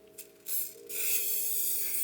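A spray can primes a car subframe with a couple of short hissing bursts, then one long steady spray, loud and close.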